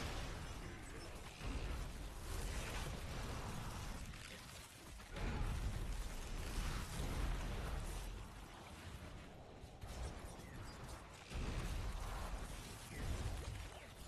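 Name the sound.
poison explosions in video game Diablo IV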